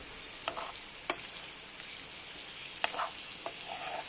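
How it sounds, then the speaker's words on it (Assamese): Onions and tomatoes fry quietly in rendered pork fat, a soft steady sizzle broken by a few sharp clinks and stirring scrapes, close up and with no voices. "পিঁয়াজখিনি পূৰা ধুনীয়াকৈ ভাজ খাই গ'ল, জলকীয়াও হৈ গ'ল ভাজ খালে।"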